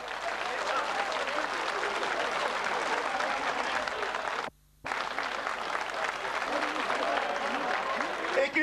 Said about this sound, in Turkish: Alkışlar susmasın lütfen.